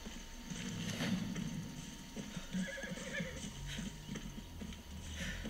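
A horse in the open-world game Far Cry 6 gallops with steady rapid hoof clops and lets out whinnying neighs, loud and continuous under faint background noise.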